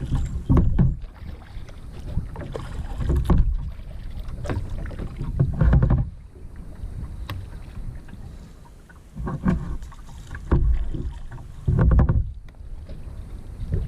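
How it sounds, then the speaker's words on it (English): Paddles dip and pull through the water of Black River beside a kayak, giving soft splashes and swishes in uneven strokes over steady wind buffeting the microphone. "Keep paddling that side. No, keep paddling that side."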